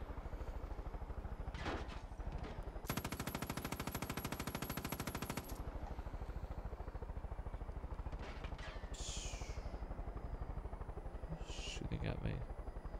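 Gunfire in the Far Cry video game: a long burst of rapid machine-gun fire runs for about three seconds amid a steady background drone, with scattered single shots and other sharp impacts before and after.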